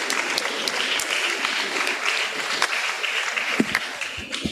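A university audience claps steadily after a speech at Dominion University, dense and sustained applause with sharp individual claps standing out nearby and faint murmuring underneath.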